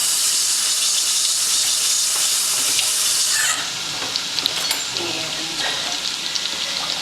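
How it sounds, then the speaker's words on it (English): Kitchen tap runs with a loud steady hiss while hands are rinsed during garlic brown sugar chicken cooking, then the flow cuts off, leaving softer sizzling and clatter. "I'm gonna rinse my hands."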